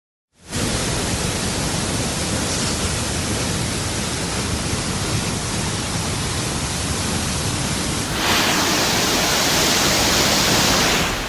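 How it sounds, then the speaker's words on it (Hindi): A flooded river rushes during monsoon flooding in the northern Indian hills, a loud, unbroken broadband roar of churning water that stays steady and close throughout, growing slightly harsher near the end, with no voices. "नदियां गर्जना भर रही हैं। सैलाब का शोर डरा रहा है।"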